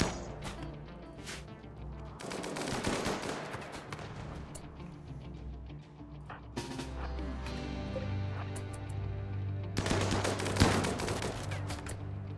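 Automatic turrets fire in the RimWorld video game, with several dense bursts of rapid gunshots and heavy thuds separated by brief lulls over a low rumbling hum.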